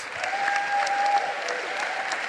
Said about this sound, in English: A warm applause for all my panelists.